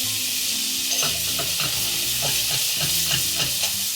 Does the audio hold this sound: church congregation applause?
no